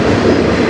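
A CN freight train on the Strathroy Subdivision rolls past at night, a loud, steady rumble with clattering rail noise close by.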